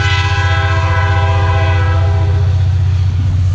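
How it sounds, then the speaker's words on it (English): A train passes close by a cornfield, its loud horn sounding continuously over the steady low rumble and rattle of the rail cars, with no talk over it. "And there comes a train."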